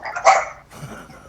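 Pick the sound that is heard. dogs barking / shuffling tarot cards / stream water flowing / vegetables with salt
dogs barking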